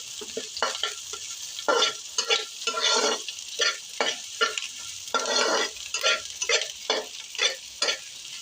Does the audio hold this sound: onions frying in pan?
yes